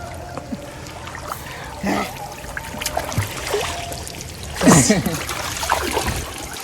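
Several people swim and splash in water, with scattered bursts of splashing and sloshing over a constant wash of background noise and faint voices.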